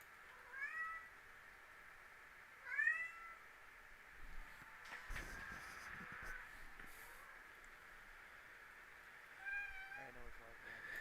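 Pet cats meow several times in short rising calls, near and fairly clear, with a few spread-out cries over a quiet room background and brief bumps of movement noise, and no talk.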